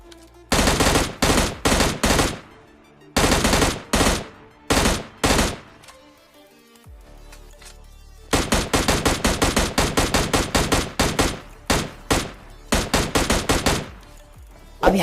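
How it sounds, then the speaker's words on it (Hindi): Bursts of M16 rifle and shotgun fire in a battle royale video game, loud rapid volleys in several clusters with short gaps, ending in a long stretch of dense repeated shots. "फाइनल उतरते के साथ ही मेरे को एक शॉटगन और एक M16 मिलती है और सामने एक बंदा स्पॉट हो जाता है"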